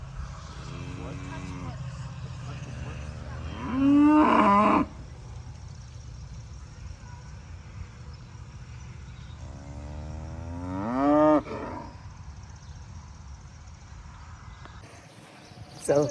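Cattle on a farm give two long, loud moos several seconds apart, close by, over a steady low background rumble.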